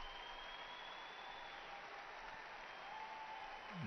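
A crowd at a judo event applauds athlete Edwards, steady dense clapping filling the hall without a break, a faint tone drifting over the top.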